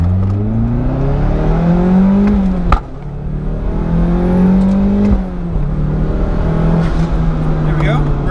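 A Mazda Miata project car being driven, its engine droning near and loud as it climbs through the revs, with two clear gear shifts dropping the pitch before it builds again, road and cabin noise underneath.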